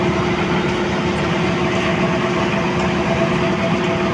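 A Carrier window-type air conditioner with 410A refrigerant runs, its compressor giving a steady, loud, close mechanical hum and whir that stays even throughout with no voices.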